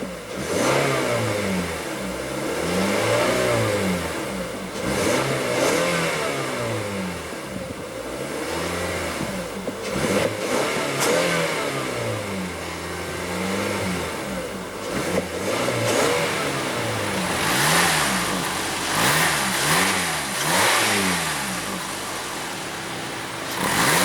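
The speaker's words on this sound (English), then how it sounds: "And let's go ahead and rev it up." The 2.5-litre four-cylinder engine of a 2016 Toyota Camry revs repeatedly, each rise and fall in pitch coming clear and close with no talking over it.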